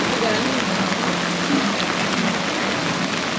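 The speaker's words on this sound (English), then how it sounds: "it is now pissing down rain" Heavy rain pours down steadily during a storm at a campsite by a new boat, a dense continuous hiss drumming on surfaces, loud and close throughout with no break.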